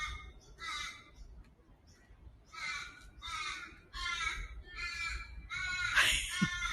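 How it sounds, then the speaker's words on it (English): A crow or raven caws repeatedly in the Succulent Gardens of the Royal Botanic Gardens Sydney, a series of loud, harsh calls in uneven bursts over a soft outdoor background. "I think is he a raven or a crow?"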